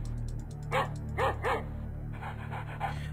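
In a flash video game, a dog gives three or four short, sharp barks, each one distinct, over a steady electronic game soundtrack.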